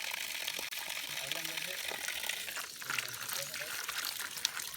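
Water rushes steadily at a waterfall on Panimahawa Ridge in Bukidnon, a constant broad hiss filling the scene while people talk faintly over it.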